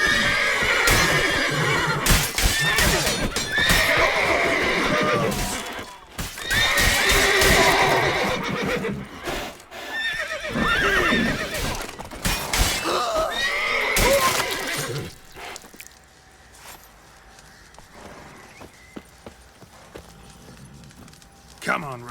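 Geralt's horse Roach in The Witcher 3 neighs and whinnies loudly several times, with hoof clip-clops and game sounds around it, and a voice talks over parts of it.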